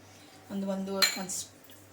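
A metal spoon stirs mango rice in a vessel, giving one soft scrape followed by a clear ringing clink against the rim, brief and close in a quiet room.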